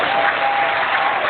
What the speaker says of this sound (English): worship the Trinity with a clap